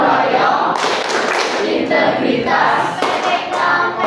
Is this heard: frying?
no